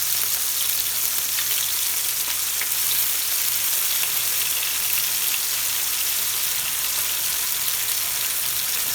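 Chicken shawarma pieces frying and crisping in a frying pan, giving a loud, continuous bright sizzle that holds steady throughout with no talking over it.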